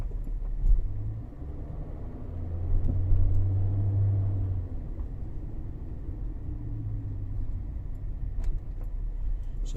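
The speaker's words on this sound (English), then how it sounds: "if you think these roads are bad, Caroline, if you're sitting on a double pillow, you wait till we get onto the unmade car park for Coral Bay" A car drives over a rough, potholed road near Coral Bay, Peyia, Cyprus, giving a steady low rumble of engine and tyres with a few heavier bumps, close and continuous with no talk.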